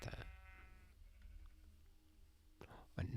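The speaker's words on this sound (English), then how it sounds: "Another sheep." A sheep in the video game Minecraft gives a clear wavering bleat near the start, followed by quieter ambience and a brief burst of noise near the end.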